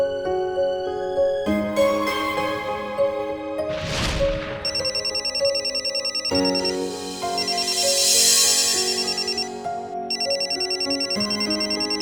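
A telephone ringtone plays a bright, repeating electronic melody for several seconds, loud and clear, with short pauses between phrases and no talking over it.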